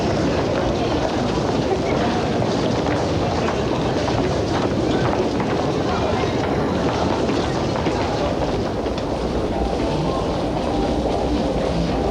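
A subway train rumbles steadily through Nankai Namba Station, a loud, continuous roar with faint rail clatter and murmuring people in the background.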